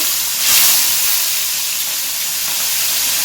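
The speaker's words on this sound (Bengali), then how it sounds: "তেলটা একটু গরম হলেই আমি মাছগুলো এতে দিয়ে দেব" Fish frying in hot oil in a wide, shallow pan gives off a loud, bright hiss that swells sharply near the start and then settles into a continuous, even sizzle.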